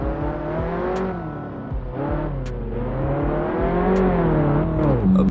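A drift car's engine revs steadily in the Assetto Corsa racing game, a loud, continuous rising and falling drone that climbs toward the end, with no talking.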